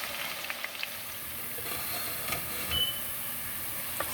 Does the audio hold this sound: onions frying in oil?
yes